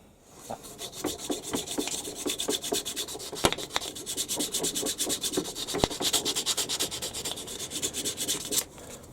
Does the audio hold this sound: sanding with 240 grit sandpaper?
yes